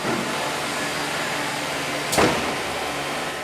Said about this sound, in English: This is a roll-fed vacuum forming machine for high-volume production.